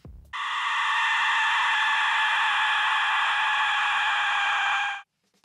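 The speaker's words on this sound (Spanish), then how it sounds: "Cuando se sopla, los silbatos de muerte aztecas emiten un grito." An Aztec death whistle gives a shrill, harsh scream-like blare, loud and continuous for about five seconds, then cuts off abruptly.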